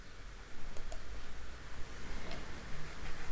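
Computer mouse clicks while drawing pipes in piping design software: a few sharp, isolated clicks in quick succession near the start and another later, set against a steady low room hum.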